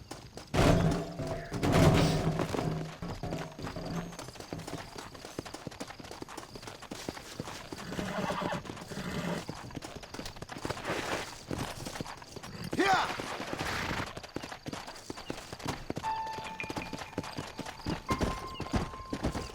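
A horse in the video game Red Dead Redemption gallops with rapid, steady clip-clop hoofbeats and gives a few loud neighs and whinnies, with faint game effects in the background and someone talking now and then.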